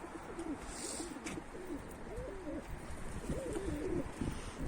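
Pigeons coo softly in repeated low, throaty phrases against a steady background hiss, with an occasional faint chirp.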